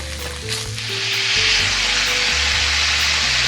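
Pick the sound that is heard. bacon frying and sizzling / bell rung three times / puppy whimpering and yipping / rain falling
bacon frying and sizzling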